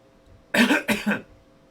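A man coughs twice in quick succession, close and fairly loud, in an otherwise quiet indoor room with a faint steady hum.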